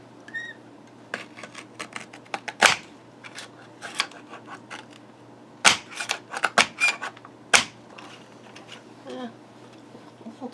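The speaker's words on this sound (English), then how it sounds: "Bring in my trimmer here. See if I can trim that." Paper trimmer slicing a card base that may be too thick, heard as a series of sharp close clicks and scraping strokes in irregular bursts, with quiet handling noise between and no talk.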